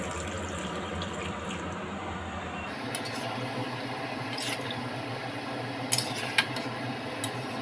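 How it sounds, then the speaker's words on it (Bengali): Water runs steadily into a pan of sautéed masoor dal cooked with okra and potato, a soft continuous pour with a few faint splashes and clinks near the end. "এবারে এর মধ্যে জল অ্যাড করে দেব।"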